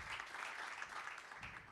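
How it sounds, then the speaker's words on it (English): Applause from an audience at a Morocco pavilion event at Expo 2020, a steady dense clatter of many hands clapping throughout, moderately distant and without pause. "I think you deserve a round of applause"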